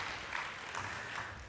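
Audience applause in a lecture hall, steady and moderately faint, a continuous wash of clapping hands without a clear beginning or end.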